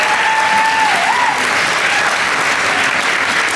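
Sustained audience applause and cheering fills a cruise-ship stage show after authors read terrible first pages, a dense, steady roar of clapping from a large crowd that stays loud throughout.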